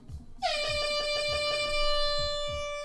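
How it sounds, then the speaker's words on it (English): A loud, sustained air horn blast cuts in after a brief moment and holds steady to the end, with rhythmic low thumps beneath it. "I only have my air horn"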